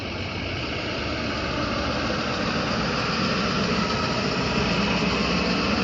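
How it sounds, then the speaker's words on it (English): Steady, loud road-traffic noise with engines idling, a broad continuous rumble and hum that holds evenly for the whole stretch with no speech. "Noisy traffic."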